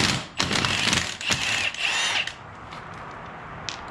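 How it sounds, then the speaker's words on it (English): Impact wrench rattling off vehicle wheel nuts on a Yamaha YXZ1000R, a loud close hammering burst lasting about two seconds, followed by quieter handling sounds. "This impact goes up to like 1400 foot-pounds of torque."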